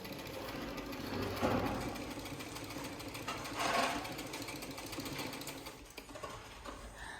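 A repaired household sewing machine runs steadily, a continuous close mechanical whir with a couple of brief swells in intensity, and no talking.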